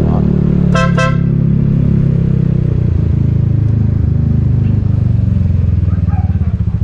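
Two short horn toots from a Znen ZN150T-9 GY6 150cc scooter sound close together near the start over a steady idling engine rumble in a parking lot, followed by continued low engine noise.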